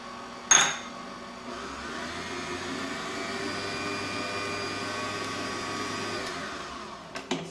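A stand mixer fitted with a whipping beater churns muffin batter in a home kitchen, a steady motor whir with clattering hum running for several seconds, opening and closing with brief knocks.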